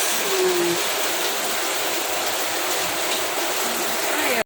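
Heavy rain pours steadily as a dense, loud, continuous hiss of water hitting a surface, with no break in intensity and no voices.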